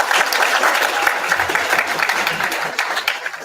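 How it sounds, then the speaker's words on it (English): An audience at a student society kickoff event breaks into a loud round of applause, dense clapping with a few sharper claps standing out and a slight taper toward the end. "Round of applause,"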